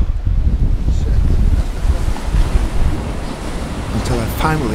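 Rough sea waves and strong wind batter a sailboat in extreme weather, a loud continuous roar with heavy wind buffeting on the microphone throughout.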